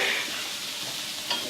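Reduced milk and heavy whipping cream being stirred together: a soft, continuous swishing hiss with a faint clink near the end, close and quiet with no talking.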